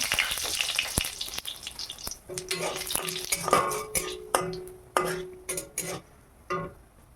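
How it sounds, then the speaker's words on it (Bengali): Cardamom, cloves and sugar drop into hot oil and fry with a close, crackling sizzle, broken by repeated clinks and scrapes of a spoon against the pan. "তেল গরম হয়ে গেছে এবার এলাচ লবঙ্গ আর চিনি ছেড়ে দিলাম"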